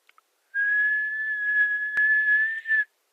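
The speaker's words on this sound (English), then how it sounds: "I'm going to whistle again" A person whistles a single steady, pure tone that holds for over two seconds, close and clear against silence, ending with a slight waver.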